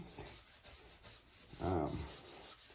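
A Scotch-Brite pad rubs over a stock Chevrolet S10 wheel with a faint, steady abrasive scrubbing, soft continuous strokes with one slightly louder pass near the end.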